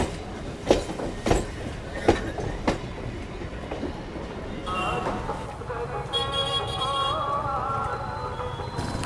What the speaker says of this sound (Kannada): ಫುಲ್ ಮಾರ್ಕೆಟ್ ಮಧ್ಯದಲ್ಲಿ ಟ್ರೈನ್ ಹೋಗುತ್ತೆ ಇಲ್ಲಿ.